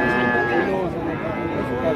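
Young Limousin bull cattle low and moo amid the crowd noise of a cattle market in East Java, with overlapping moos close by and people talking throughout.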